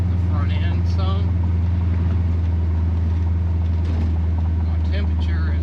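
C3 Corvette restomod with an LS swap cruises down the road, its engine and tire noise a steady, loud drone under someone talking close by.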